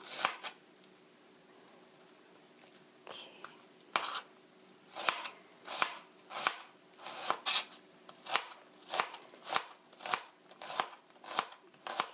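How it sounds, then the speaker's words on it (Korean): Two garlic cloves are sliced thin with a knife, each cut landing as a crisp tap on the board. The taps come slowly at first, then in a quick, even rhythm, close and clear with no voices. "투 클로버 갈릭 마늘 두 쪽도 얇게 슬라이스해서"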